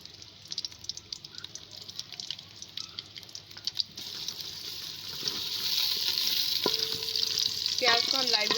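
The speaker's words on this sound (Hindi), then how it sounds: "अब हम देगची के अंदर ऑयल ऐड कर रहे हैं। अब हम इसके अंदर प्याज भी ऐड कर देंगे।" Onions frying in oil in a cooking pot, a steady sizzle that grows louder and denser after the onions go in, with occasional stirring clinks and scrapes, close and without talk.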